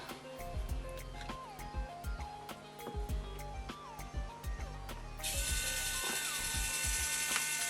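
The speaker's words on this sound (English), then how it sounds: "Okay, so I can hear the motor turning, so let's turn the head." Steering head servo motor on an RC Bruder Ausa dumper conversion whirs and ratchets in close, clicking gear bursts, then settles into a steady high-pitched motor whine for the last few seconds.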